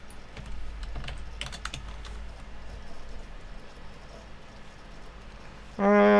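Rapid clicking of keys on a computer keyboard, quick irregular taps close by, followed by a short tonal beep at the end.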